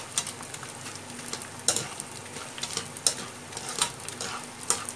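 Edible gum puffing as it fries on a low flame for Indian gond laddu, giving a steady soft sizzle with scattered crackles and pops throughout.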